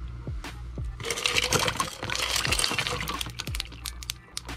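Sharp crackles and pops from ice splitting in warm water, with a few clear snaps early and a fizzing, crackling wash through the middle.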